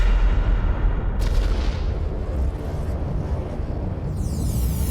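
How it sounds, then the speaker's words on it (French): A huge Big Bang explosion in a parody comedy film: a loud, sustained, deep roaring rumble that fills the whole stretch without letup, with no voices. "Ensuite vint le Big Bang."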